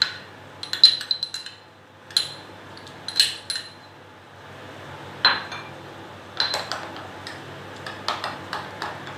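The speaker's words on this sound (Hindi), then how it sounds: "इसमें ही हमने ये जिंजर गार्लिक पेस्ट भी मिक्स कर देना है।" A metal spoon clinks and taps against a pot while ginger garlic paste is mixed into meat, giving sharp scattered clinks in short clusters separated by pauses.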